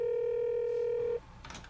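A steady phone dial tone holds for about a second while a call is placed back, then cuts off and leaves only faint background noise.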